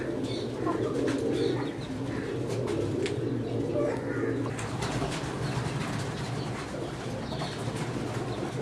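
Teddy pigeons cooing steadily in a group, a continuous low throaty murmur with faint chirps, fairly close, under occasional quiet background voices.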